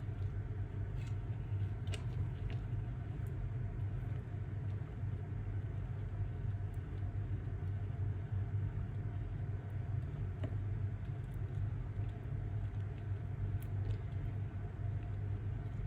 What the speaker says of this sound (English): So I will be putting this in my Resiner's tumbler curing machine